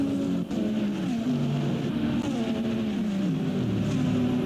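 Lamborghini and Toyota race cars battle side by side at Long Beach, their engines roaring loudly and continuously with pitches that rise and fall through gear changes.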